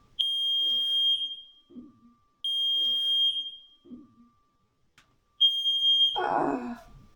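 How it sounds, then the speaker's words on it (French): A smoke alarm sounds three times, each a long piercing electronic tone with pauses between, followed by a burst of movement or a voice at the end. "j'ai mon détecteur de fumée"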